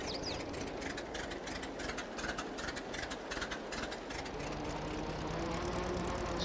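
An old, rough farm tractor with a new battery idles after starting. It gives a steady, throbbing rumble with a rattling, uneven texture close by, and it grows slightly louder toward the end with no voices.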